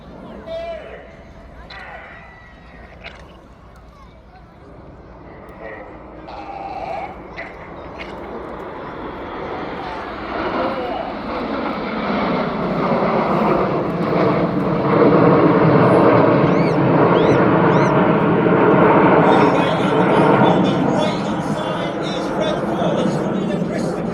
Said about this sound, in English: And coming in from the right, this is Typhoon!